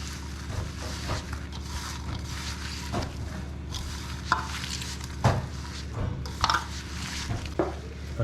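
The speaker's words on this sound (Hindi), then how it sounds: "घी डालो, रोटी डालो, चीनी डालो और उसको ऐसे भूनते रहो।" Roti being roasted in a pan with ghee and sugar, giving soft sizzling with intermittent scraping and stirring clatter of utensil against the pan, fairly close.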